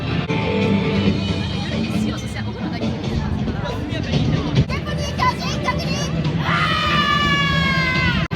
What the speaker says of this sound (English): People are screaming.